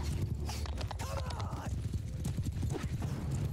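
Horses gallop in a Mount & Blade II: Bannerlord battle as a dense, steady clatter of hoofbeats with a short whinny, and someone talks over them.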